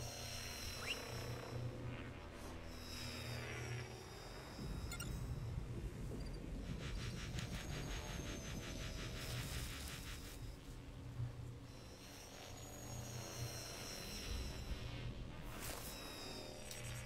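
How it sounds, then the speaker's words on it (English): Enemy drones flying in Call of Duty: Advanced Warfare, a faint buzzing, whirring hum with shifting tones and mechanical pulsing, steady throughout under other game noise. "They're sending in drones."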